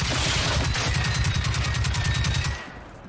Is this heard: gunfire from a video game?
yes